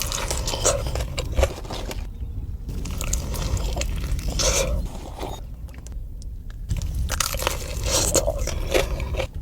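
Loud, close crunching bites and chewing of fast food such as a crunchy chicken sandwich with cucumbers, coming in bursts with short quiet pauses between mouthfuls.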